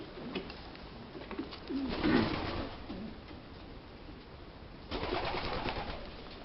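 Several racing pigeons coo in low, soft bursts over a steady background hiss, with a fuller flurry of cooing near the end.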